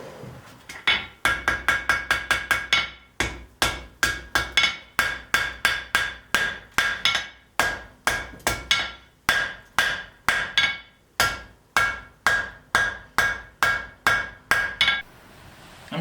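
A hammer strikes hot steel repeatedly while forge welding a woodworking chisel, loud close ringing blows coming in a fast burst then steadier rhythmic strikes, roughly thirty or more hits.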